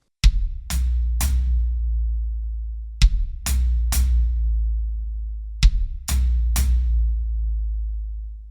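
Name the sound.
drum kit triplet, bass drum and floor tom notes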